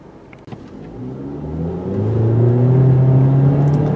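A 2018 Mitsubishi Eclipse Cross with all-wheel drive and a CVT automatic accelerates hard from a standstill. The engine drone rises smoothly and steadily, heard from inside the cabin.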